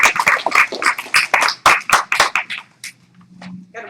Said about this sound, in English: Put the paper away and clap.